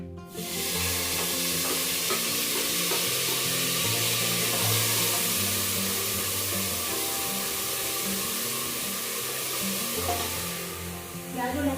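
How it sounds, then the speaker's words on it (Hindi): Sliced onion and garlic frying in a pan with cumin, a dense, steady sizzle with ongoing stirring scrapes that holds nearly the whole stretch before fading at the end. "प्याज और लहसुन को अच्छे से भून लेते हैं पहले।"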